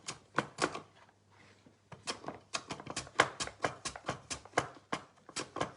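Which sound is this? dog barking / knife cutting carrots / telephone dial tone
knife cutting carrots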